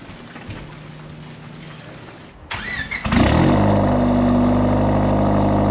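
Turbocharged Honda Civic engine cranking and catching, a brief starter whirr followed by a loud steady idle that fills the rest of the clip.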